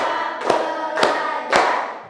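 A class of students clapping together in a rhythmic spirit clap, three sharp, evenly spaced unison claps about half a second apart, fairly loud and close, with no talking.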